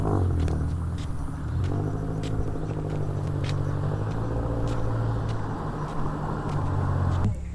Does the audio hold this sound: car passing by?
yes